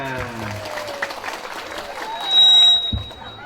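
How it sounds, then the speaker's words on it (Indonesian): Scattered audience clapping during an Islamic sermon gathering, moderately loud and spread across the clip, mixed with a whistle-like tone and bits of crowd noise. "Tepuk tangan."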